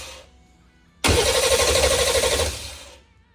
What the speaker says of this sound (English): let's see if we got any oil pressure bumping it over with the starter